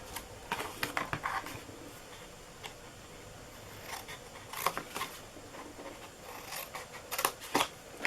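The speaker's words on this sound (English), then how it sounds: "let's go ahead and cut our flaps here" Scissors snip through paper in a string of crisp, irregular cuts, close by, with brief quiet pauses between bursts.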